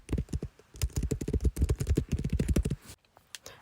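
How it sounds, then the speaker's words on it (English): Rapid clattering keystrokes on a computer keyboard, close and steady, with a brief pause near the end before a few more taps. "This is the sound of me typing."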